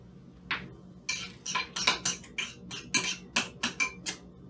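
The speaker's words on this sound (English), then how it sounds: "Kind of mash up the yolks a little bit so that you get a little bit of a creamy mixture" Fork tines scrape and tap against a bowl in a quick irregular series of about a dozen clicks while mashing hard-boiled egg yolks with salt and pepper into a creamy mixture, close and fairly quiet with no talking.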